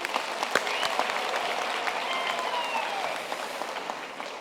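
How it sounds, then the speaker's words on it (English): A graduation ceremony audience claps for the deans and program director, a dense, steady burst of applause lasting a few seconds with a few sharper claps up front. "A hand of applause to them."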